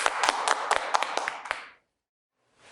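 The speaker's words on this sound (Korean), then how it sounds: "박수로 맞이해 주시기 바랍니다" Audience clapping to welcome two presenters from an education support department at a 2020 seminar, a burst of sharp claps lasting under two seconds before stopping, then a brief return of noise.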